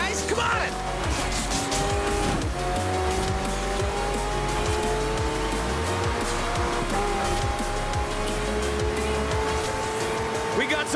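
Race cars and hypercars in the video game Forza Horizon 4, with loud sustained engine whine and shifting revs over a constant roar, while a voice talks over the action.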